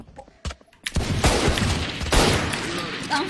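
Gunfire fired through a wall in a multiplayer shooter, a sharp crack followed by a sustained loud volley with a second burst near the middle, after a few quieter clicks.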